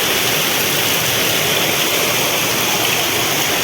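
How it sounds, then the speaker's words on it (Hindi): Very heavy rain pouring down in a dense, continuous hiss, loud and close with no breaks and no voices. "बहुत तेज़ बारिश है।"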